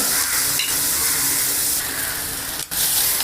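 Onion sautéing in butter in a hot kadai, a loud continuous sizzle with stirring scrapes, close up.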